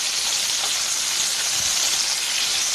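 Brinjal fries in a pan with a steady, close hissing sizzle that stays even throughout, with no talking.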